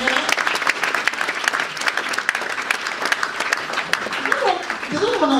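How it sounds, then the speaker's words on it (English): An audience claps loudly and steadily throughout, with cheering voices mixed into the ovation, at a live UK launch event for a home-based travel agency. "That's a round of applause."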